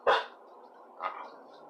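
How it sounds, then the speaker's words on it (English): A dog barking nearby, two sharp barks about a second apart, the first louder, with a low steady hum underneath and no talk. "The dog is barking."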